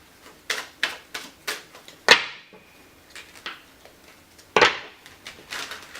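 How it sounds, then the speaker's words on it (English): Tarot cards being shuffled by hand, crisp riffling snaps and soft papery flicks in an irregular rhythm, with two louder sharp riffles standing out, close and alone with no talk. "And I just am currently shuffling."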